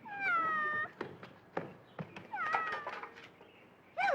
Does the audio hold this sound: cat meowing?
yes